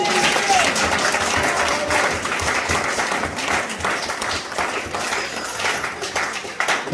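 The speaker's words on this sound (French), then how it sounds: "Est-ce qu'on peut acclamer pour la gloire?" A church congregation applauds and cheers during a French-language service, a dense, sustained burst of clapping and voices filling the room throughout.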